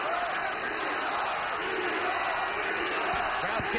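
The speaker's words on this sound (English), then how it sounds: "Crowd chanting "Be Hop."" Boxing arena crowd during the Bernard Hopkins versus Sergey Kovalev fight, a dense steady roar of many voices chanting and shouting, continuous and loud throughout.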